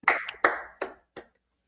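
A few sharp hand claps or snaps, four distinct bursts spaced roughly evenly, close and fairly loud, each with a short decaying tail, no talking.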